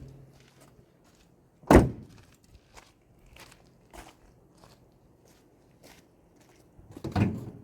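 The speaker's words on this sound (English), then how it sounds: "we'll pop the hood open and have another look" Hood of an MGB sports car popping open with one sharp, loud thunk, followed by softer scattered clicks and handling knocks, then a second firm clunk near the end, all close by with no talk.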